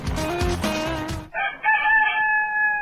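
A rooster crows loudly and close by, one long drawn-out call following a burst of dense, noisy sound, standing alone without talk.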